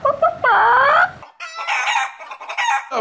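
A human voice imitates chicken noises, loud and close, with clucking and a stretched crow-like call followed by a few shorter squawking bursts.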